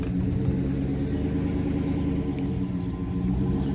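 An old Chevrolet Silverado pickup's engine drones steadily at a moderate distance as the truck strains to pull a boat, a continuous low rumble with no voices.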